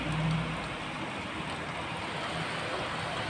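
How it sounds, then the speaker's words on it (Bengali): Heavy monsoon rain pours down outside a window, a dense, even hiss of water that holds steady and fairly loud from start to finish, with no voices. "এতটা পরিমাণে বৃষ্টি হয়েছে।"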